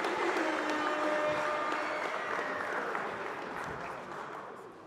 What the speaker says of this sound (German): Einen großen Applaus für Hüseyin Halimi!